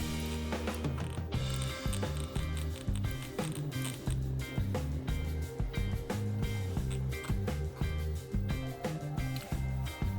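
A preset screw knob on a Fin Nor Marquesa MA30 fishing reel gives off close, steady mechanical clicking and ratcheting, with rhythmic metallic ticks repeating throughout.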